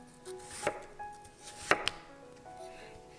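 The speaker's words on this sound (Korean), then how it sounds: "도톰하게 잘라주세요." A knife cuts a small potato into thick slices, a handful of crisp, separate thuds on a cutting board spaced irregularly, close and fairly quiet, with faint music behind.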